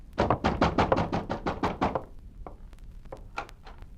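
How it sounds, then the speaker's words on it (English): Heavy, rapid pounding on a door in a radio drama: about ten loud, close blows in a quick burst, followed by a few sparser, softer knocks, with no talking. "pounding on the door"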